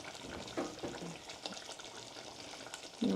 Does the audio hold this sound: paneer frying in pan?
yes